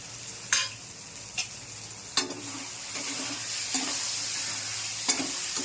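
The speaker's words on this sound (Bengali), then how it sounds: "দিয়ে আর একটু লাড়াচাড়া করে নেব চালটা দিয়ে" Gobindobhog rice stirred in a frying pan with a spatula, giving scattered scraping strokes over a steady low sizzle, close and moderately loud, with no talking.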